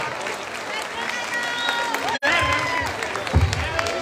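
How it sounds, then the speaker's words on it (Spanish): Applause and crowd noise greet the Colotlán mariachi at an international mariachi and charrería gathering. The clapping stays steady and dense for several seconds, with voices mixed in, a brief drop near the middle and a low thump late on. "fuerte el aplauso para ellos"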